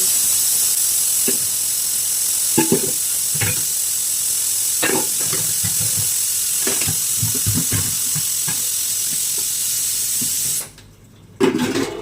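A pressure cooker boiling taro and potatoes gives off a steady, loud hiss of steam with scattered clinks and kitchen knocks, then falls briefly quiet near the end before a short burst returns.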